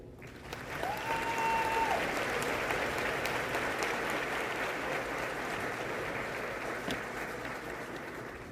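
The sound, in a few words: audience applause at graduation ceremony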